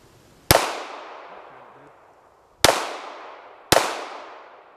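Three loud, sharp pistol shots from a 1915 DWM P.08 Luger, spaced unevenly about two seconds and one second apart, each with a long echoing decay outdoors.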